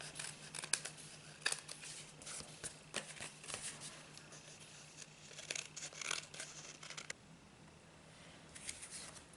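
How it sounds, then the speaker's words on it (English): Scissors trim excess paper along the edge of a handmade card, producing soft, close snips and rustling paper crackles in irregular bursts over a low steady hum. "just take your scissors or your paper cutter and go along the edge and just cut off any"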